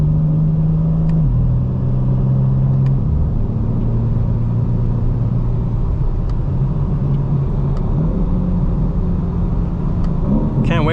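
Cabin of a 2025 BMW M4 CS on the highway, its exhaust note piped in through the speakers, a steady low engine drone with small shifts in pitch under constant road rumble, no talking.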